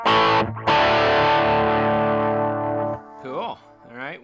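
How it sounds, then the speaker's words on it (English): Distorted electric guitar through a Line 6 Pod Express with analog delay: a sustained, saturated chord rings loudly for a few seconds, then short bent notes follow with trailing repeats. "A little bit of analog delay."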